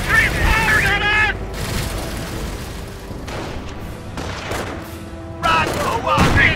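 Rattling gunfire and booming blasts from a World War II Normandy invasion strategy video game with Sherman tanks and infantry, bursts of shots over a battle din, with game voices speaking over parts of it.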